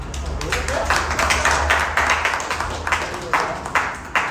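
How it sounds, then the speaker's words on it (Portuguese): A workshop group in a neighbourhood session claps in an irregular, fairly close spatter that continues throughout, with a voice talking underneath. "eu diria salva de palmas para vocês"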